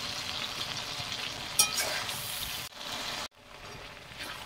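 Onion sizzling and frying in a pan with salt and turmeric for a Bengali chicken curry, a steady crackling hiss with a brief stir and a short drop in the sizzle near the end.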